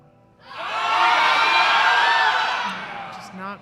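Spectators at a provincial powerlifting meet roar for a lifter's squat attempt, a loud swelling wave of mixed cheers and yells that builds, holds, then fades as a few voices carry on.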